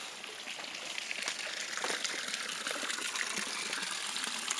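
Water gushes steadily from a tap, a continuous close splashing rush with no voices.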